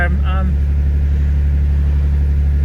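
A Nissan 300ZX with a twin-turbo VG30TT engine idles steadily and close by, a loud, constant low rumble, with a brief voice heard near the start.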